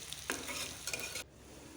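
Onions fry with salt in a pan while a utensil stirs them, producing a couple of quick scraping strokes over a soft, close sizzle that stops abruptly.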